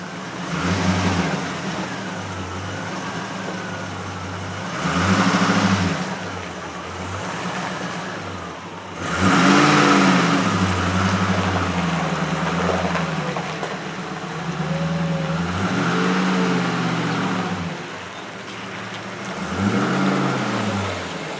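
A Range Rover engine idles and then pulls away past the camera, a loud steady engine note with swelling passes and revs, no talk.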